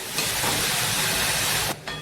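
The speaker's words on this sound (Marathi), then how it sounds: "चांगली अशी तव्यामध्ये हलवून घेऊ" Dill greens stirred in a hot pan give a loud, steady sizzling hiss that runs nearly two seconds, dips briefly, then picks up again, with no talking.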